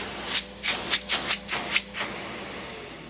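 A secondhand vacuum cleaner running, its airflow hissing and swelling in about eight quick rhythmic surges before settling into a steady rushing noise.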